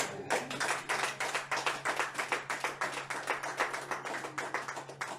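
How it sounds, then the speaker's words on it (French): A church congregation claps in a brisk, even rhythm, many hands beating together at a moderate distance for several seconds with no voices standing out. "Mais je suis convaincu qu'ils sont en train d'acclamer."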